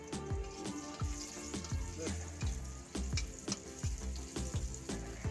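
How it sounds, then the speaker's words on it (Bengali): Carrot pieces frying in hot oil for a cumin vegetable curry, a crackling sizzle with repeated scraping knocks of a spatula as the pan is stirred in an uneven rhythm. "এবার এই তেলের উপরে আমি এক এক করে সব রকম সবজি দিয়ে দিলাম প্রথমে আমি দিলাম গাজর এবার গাজরটা দিয়ে একটু নাড়াবো"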